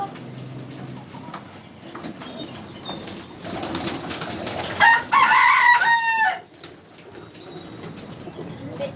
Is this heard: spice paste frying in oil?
no